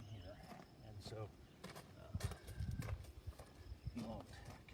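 A horse shifts and steps about on the ground while being saddled, with scattered hoof thuds and clip-clops, some snuffling, and a person talking over it at close range.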